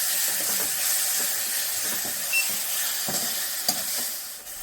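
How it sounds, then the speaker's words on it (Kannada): Raw mango rice mixed with turmeric is stirred in a hot pan, giving soft scraping strokes over a steady sizzling hiss, close and continuous with no voices. "ನೋಡಿ ತಿರುಗಿಸ್ಕೊತಾ ಇದ್ದೀನಿ"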